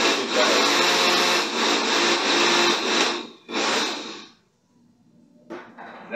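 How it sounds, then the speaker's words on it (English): Coconut pieces are pulsed in a blender, making loud grinding bursts. A long run is followed by a shorter burst, then quiet and a brief final pulse. "we'll take a coconut, cut it in pieces and put it in a blender"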